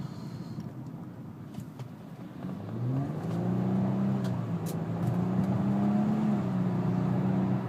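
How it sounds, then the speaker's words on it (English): A 2012 Nissan Altima Coupe with a V6 and CVT in DS mode is heard from inside, its engine drone rising steadily as it accelerates, with the pitch climbing and dipping in a few simulated shifts. "slap it into DS mode like it is right now, and it'll kind of mimic gear changes a little bit"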